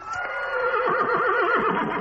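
A horse whinnies loudly and close by, in one long quavering neigh that wavers up and down for about two seconds, with no talk over it.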